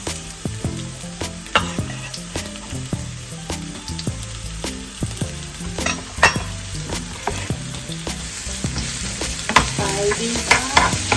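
Garlic and onions sizzle steadily in a pan, with frequent close scraping and tapping as a utensil stirs and pushes them around, the rhythm getting busier toward the end.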